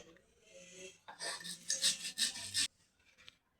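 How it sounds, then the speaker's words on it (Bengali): Dried chilies are ground by hand on a grinding stone while spices are prepared for a village-style chicken biryani marinade. Quiet shuffling gives way to a burst of loud, gritty back-and-forth rasping strokes for more than a second, then it falls quiet. "আর এই শুকনো ঝাল একসাথে বেটে নেব"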